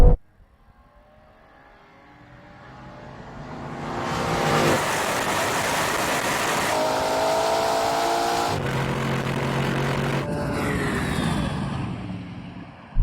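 Drag race between a Lamborghini Urus SE, Ferrari Purosangue, Porsche Cayenne Turbo and Audi RSQ8 Performance: engines build from near silence into a loud sustained roar, with abrupt gear-shift steps along the run.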